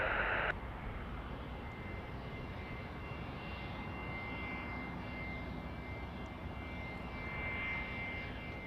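An airplane at Kelowna airport in British Columbia departing for takeoff, its engine a steady broad roar with a faint whine, sustained and moderately loud throughout, with no talking.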